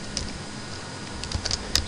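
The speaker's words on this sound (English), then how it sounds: "I type here" Steady, quick tapping of keys on a computer keyboard, close and moderately loud over a constant background hiss, with a few sharper clicks near the end and no voices.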